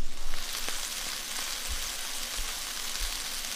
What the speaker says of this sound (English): Almost every single rain sound in film and TV is actually the sound of frying food.